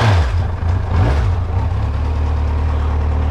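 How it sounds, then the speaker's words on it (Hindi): Kawasaki Z900 motorcycle engine revving up hard on the throttle at the start of a morning ride, a loud close rising roar that settles into a steady strong drone. "first throttle to our bike, कहते हैं इसको वो इनिशियल पुश"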